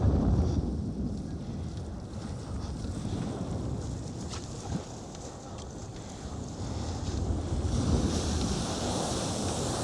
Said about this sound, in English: So now I'm in front of the white water.